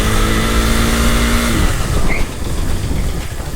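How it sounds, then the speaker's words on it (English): A Husqvarna Vitpilen 401 motorcycle engine drones loudly and steadily, then cuts off sharply as the rear brake is slammed hard, leaving a rougher, fading noise. "that's me on the rear brakes, really slamming on it"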